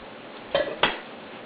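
Cream of wheat (upma) sputtering as it heats in a pan: two short, close pops roughly a third of a second apart over a faint steady background.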